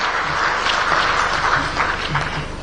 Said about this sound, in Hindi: सब जोरदार तालियों से मुख्यमंत्री महोदय का आभार व्यक्त करें